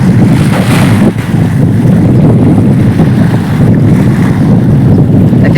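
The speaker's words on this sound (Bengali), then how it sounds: "বড় বড় ঢেউগুলা" Loud, steady roar of large ocean waves at a beach at The Pearl, Doha, Qatar, with heavy wind buffeting the microphone, continuous throughout with a brief dip near the start.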